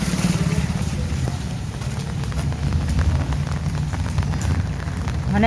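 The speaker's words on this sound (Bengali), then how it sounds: "আজকের এই বৃষ্টি থামবে বলে তো মনে হয় না।" Rain falls steadily on a dark winter morning in a village with waterlogged roads. It makes a dense, even patter with a low rumble underneath, loud and continuous.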